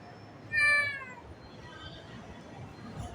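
A kitten gives one clear, fairly close meow, rising and then falling, against a quiet background, with fainter mewing sounds after it.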